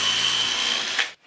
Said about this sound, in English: you can see how the guides allow the drill bit to drill the hole